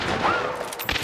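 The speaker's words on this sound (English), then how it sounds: "gunfire from the rear." A quick burst of sharp gunshots with a brief whistling tone in the middle, loud and close, ending in a couple more cracks, during a shootout at a Golden Corral restaurant.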